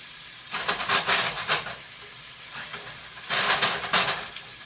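Chicken browning in a hot pan, a close, hissing sizzle that swells in two louder bursts with quieter stretches between them, with no talk.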